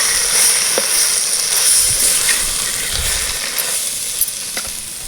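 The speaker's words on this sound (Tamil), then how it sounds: "தேவையான அளவு மசாலா சேர்த்து நம்ம கிளறிக்கிடுவோங்க" Steady sizzling of spices frying in a hot pan, with occasional scraping clinks as it is stirred; continuous and close, no voices.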